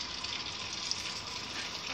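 Floured fish pieces frying in hot oil, a steady, faint hiss and bubbling sizzle that holds evenly throughout, with no talk over it.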